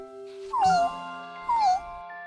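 Young cartoon kitten meowing twice, two short high, slightly falling mews about a second apart over a soft sustained musical background.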